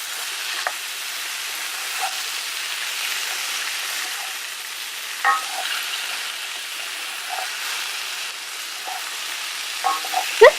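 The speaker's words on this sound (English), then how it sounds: "Give it a quick stir." A dumpling stir-fry with stir-fry paste being stirred in a cast iron pan at a camp, producing a soft continuous hiss with occasional light scrapes and taps from the utensil.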